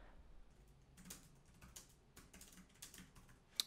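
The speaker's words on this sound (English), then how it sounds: "a quick little typing test on the keyboard" Keys clack on the keyboard of an Onda Xiaoma 21, a 12.5-inch Windows 10 laptop, in a quick typing test: light, irregular close taps in short bursts, with one sharper click near the end and no voices.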